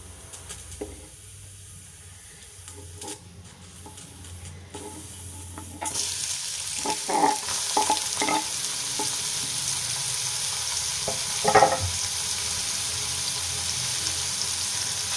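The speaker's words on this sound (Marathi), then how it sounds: "तो कांदा आपल्याला छान परतून घ्यायचा" Onion sizzling in hot oil, quieter at first, then a steady loud hiss from about six seconds with occasional stirring scrapes.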